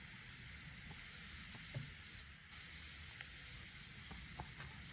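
A sausage sizzles faintly in a pan on a Trangia camping stove, a soft continuous hiss with a few small pops and clicks.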